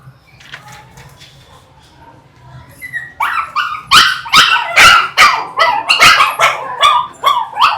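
Several caged dogs bark and yip insistently, starting with faint whimpers and then breaking into loud, rapid, overlapping barks close by.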